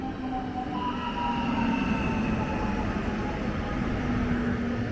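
An Intercity train rumbles steadily through a station in Pabianice at close range, a constant rolling roar with faint high metallic tones from the wheels, continuous for several seconds.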